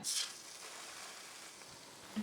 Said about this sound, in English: We want that nice sizzle.